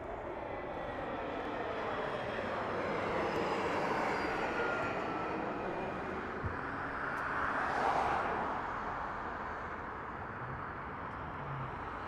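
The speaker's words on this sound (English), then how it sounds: "United Aerolíneas is about to hit the runway, the one-way." A United airliner comes in to land at Harry Reid Airport in Las Vegas, its jet roar held steady at a distance and swelling slightly toward the end, with no voices.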